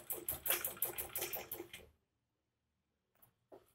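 A sewing machine stitches kurti fabric in a rapid, steady mechanical run for about two seconds, up close and fairly loud, then stops, leaving near-silence apart from a couple of faint handling clicks.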